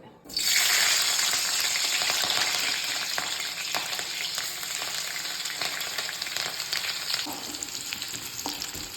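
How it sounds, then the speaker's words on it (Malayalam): Ginger and green chilies hitting hot oil with a loud, steady crackling sizzle that starts abruptly and holds on, close and alone. "എണ്ണ ഒഴിച്ചു, ചൂടായിട്ടുണ്ട്. നമുക്ക് നമ്മുടെ ഇഞ്ചി പച്ചമുളകും ഇടാം ആദ്യം തന്നെ"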